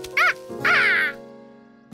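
A cartoon duck gives two loud, nasal quacks, the second longer and drawn out, followed by a brief pause and the start of another sound.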